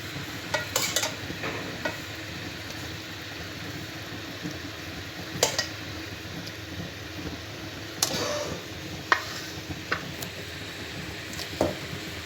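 Cooked masar rice is stirred and scooped from the pot in quiet scraping strokes, with sharper clinks and taps of the spoon against the pot at several points.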